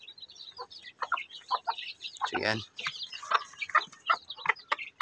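A hen and her young chicks cluck and peep in a brooder cage, with dense, overlapping short calls running throughout and a brief burst of louder clucking midway, while a person speaks briefly over them.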